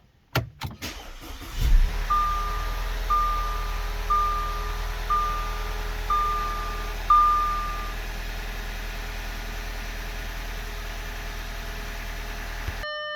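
A 2010 Audi A4 2.0T engine idles steadily after starting, a low, even hum that runs until it cuts off abruptly near the end, with a chime sounding in a regular pulse early on.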